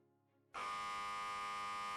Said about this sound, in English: That buzzer was loud.